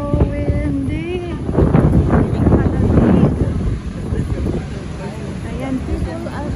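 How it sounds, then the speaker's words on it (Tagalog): Strong wind buffets the microphone outdoors in cold weather, a loud continuous rumble and roar throughout, with people talking over it. "It's so windy."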